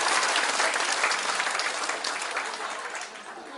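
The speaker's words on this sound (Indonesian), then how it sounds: "Kita beri tepuk tangan dulu." An audience at a health talk claps together, dense close applause that starts at full strength and slowly thins out over a few seconds.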